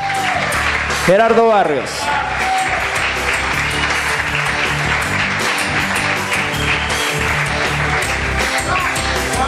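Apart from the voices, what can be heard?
audience applause welcoming school teams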